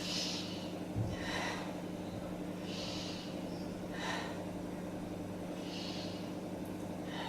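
Steady, rhythmic breathing during a beginner yoga plank, each breath faint and close with soft, airy inhales and exhales repeating about every one to two seconds over a low steady hum, no talking.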